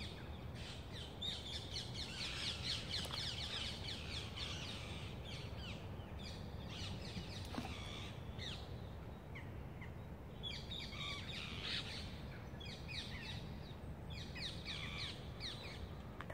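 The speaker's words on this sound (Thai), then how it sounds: "ฟังเสียงนกเสียงกาฮ้อง" Crows cawing and smaller birds chirping outdoors in the early morning, layered and continuous, with calls overlapping at moderate distance over a steady background hum.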